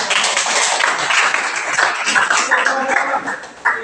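Classroom applause after a group presentation during a teaching practice session, a dense steady patter of many hands clapping at close range that cuts off near the end.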